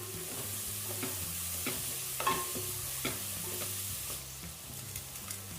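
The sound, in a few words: frying coarse green masala for ghee rice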